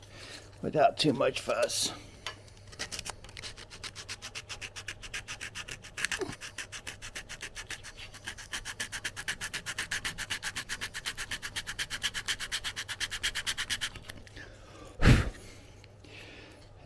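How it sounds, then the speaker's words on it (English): Polyurethane glue is sanded off a wooden camera mount, a fast rhythmic rasping scrub that runs for several seconds at close range, with a brief spoken remark and some handling noises around it. "that polyurethane glue, it sands right off"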